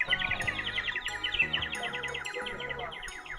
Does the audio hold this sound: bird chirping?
yes